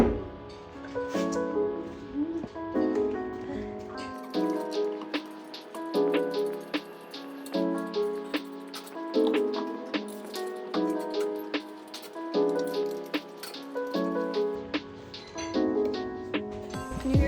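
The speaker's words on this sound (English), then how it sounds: "can you hear the rain? It sounds so nice." Rain falls steadily outside a space where coilovers are being fitted to a Honda S2000, a continuous patter of drops and drips with no talk over it.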